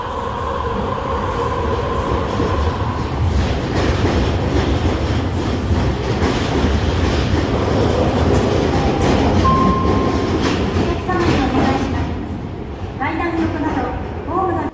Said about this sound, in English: the 8:19 train is just leaving the turnback track and will be arriving in on platform 1 shortly